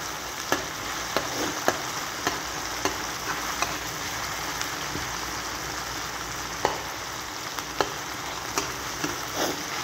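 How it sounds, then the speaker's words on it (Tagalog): Tomatoes and canned 555 sardines sautéing in a pan, a dense continuous sizzle and crackle with occasional stirring clicks, close and steady, no voices. "Gisa muna natin tong kamatis."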